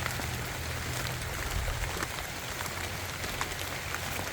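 Rain falls over a vegetable garden as a steady, dense patter that stays even and moderately loud throughout, with no voices heard.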